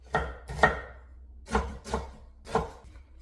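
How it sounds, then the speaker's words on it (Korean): Lettuce and onion are chopped on a cutting board with a knife: five sharp, close chops in uneven pairs, with brief pauses between them and no talk. "야채는 배가 들어가면 좋은데 일단 상추하고 양파만 넣어보겠습니다."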